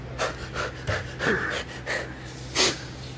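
A BMX rider breathes heavily after riding, giving loud, close, rhythmic panting gasps, about seven breaths in three seconds, with an audible snort near the end and no words.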